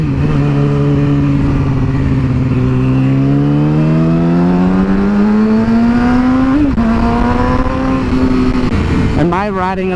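A Yamaha R6 sport bike's engine revs steadily upward while being ridden, a loud continuous harmonic whine rising in pitch, briefly dipping and surging again near the end.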